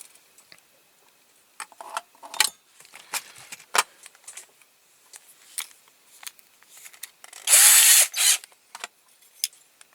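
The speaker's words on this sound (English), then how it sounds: "I'll start by drilling down with a small drill bit first." Small drill bit bores into a die-cast Dinky Toys Morris 1100 model car, giving scattered close clicks and taps and one brief high whining burst of the drill near the end, with no talking.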